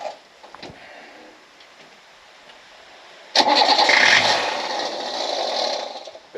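Abandoned military jeep rescued from a scrapyard cranks over for an attempted first start, a loud sudden churning burst of starter and engine noise after a few seconds of near quiet.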